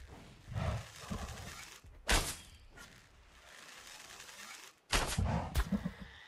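Gunfire from the survival video game ARK, several sharp, loud, broadband shots with dense crackling and thuds between them, heard close and alone with no talk.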